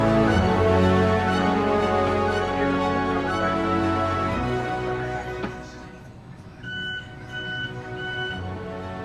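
Repeated short high electronic beeps from a tugboat's echo sounder shallow-water alarm, evenly spaced, sound over a dense engine drone and rumble.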